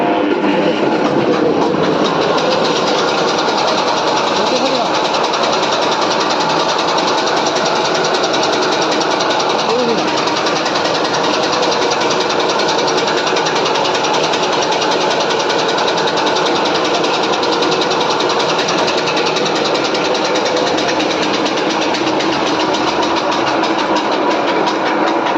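Chaff cutter machine running steadily in a village setting, a loud continuous mechanical whir and rattle with rapid clattering that stays constant throughout, close to the machine.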